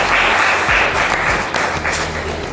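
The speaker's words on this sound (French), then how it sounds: "Je pense que ça s'applaudit quand même." An audience bursts into applause, a dense, loud wash of many hands clapping together that holds steady for a couple of seconds.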